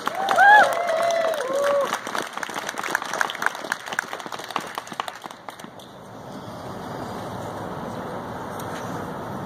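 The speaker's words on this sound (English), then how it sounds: "Please give him a round of applause." A rally crowd applauds a speaker, with scattered claps and some cheering that start strong and thin out over about six seconds, fading into quieter room noise.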